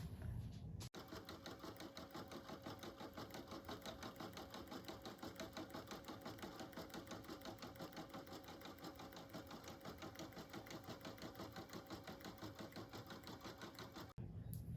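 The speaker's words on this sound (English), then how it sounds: "I'm gonna take it to the machine to do a bean stitch" An embroidery machine runs a quick bean stitch on an in-the-hoop stuffed bear, making a fast, even mechanical tapping rhythm that stays close and steady for about thirteen seconds.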